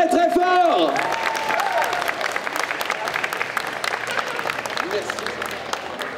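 An audience at a Disney concert during a geek convention breaks into loud, sustained applause for a young performer, with a sung or held tone fading at the start and the clapping thinning slightly toward the end.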